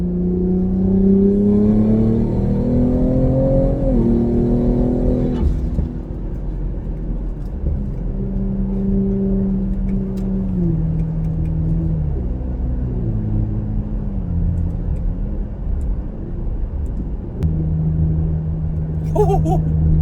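A 2020 Ford Explorer ST with a 3-inch Thermal R&D exhaust roars and revs, pitch climbing then dropping as gears shift from third around 3,000 rpm, with steady rumbling drone throughout.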